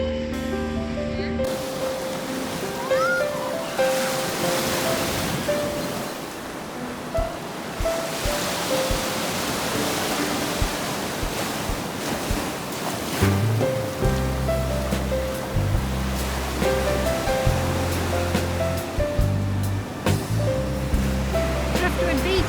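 Ocean surf rolls steadily onto windward Driftwood Beach, a continuous broad wash of breaking waves throughout, with faint voices and tonal sounds mixed in over the surf.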